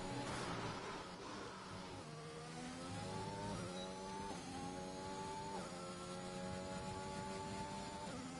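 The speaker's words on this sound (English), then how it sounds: "Listen to how high he revs the car." A racing car engine revs high in a video game, the pitch climbing in repeated sweeps that drop at each gear change, steady and alone throughout.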